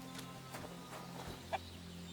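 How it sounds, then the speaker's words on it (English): Chickens cluck faintly in the Kingdom Come Deliverance 2 game world, a few soft clucks over a steady low ambient hum, with one brief sharper cluck near the end. "Got the chicken. The chicken's chilling."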